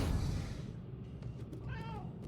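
A cat in the video game Murdered: Soul Suspect gives a clear meow at close range with no talk, following a brief low rumble.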